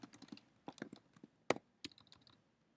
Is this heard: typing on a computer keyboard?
yes